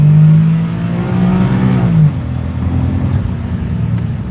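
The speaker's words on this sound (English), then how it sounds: "For being a little automatic K car, it absolutely rips" A small automatic kei car's engine revs hard up close, a loud buzzing rise that drops back to a steady, rumbling idle.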